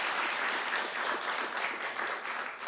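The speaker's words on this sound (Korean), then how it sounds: "다시 한번 큰 박수 부탁드리겠습니다." An audience at a green building forum applauds after a lecture, a full steady wash of clapping from many hands, fairly loud and unbroken for the whole moment.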